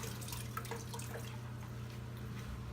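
Water drips faintly and steadily as a toilet tank drains, set against a constant low hum with no talking.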